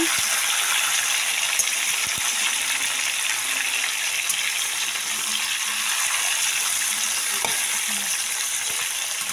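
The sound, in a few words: stirring and sautéing chicken wings in a pan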